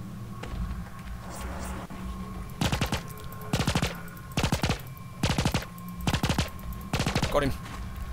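Gunfire in the block-building shooter game Minimum, heard as several short bursts of rapid shots at a steady rhythm, fairly loud and close.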